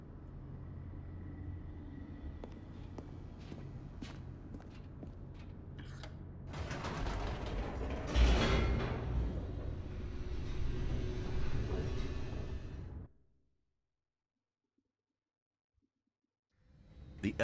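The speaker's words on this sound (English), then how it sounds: "The elevator raced downward, plummeting towards an unknown fate." Elevator descending in The Stanley Parable video game: a low mechanical rumble and creaking hum that swells into a louder grinding rush midway, then cuts off abruptly into near silence before a faint return at the end.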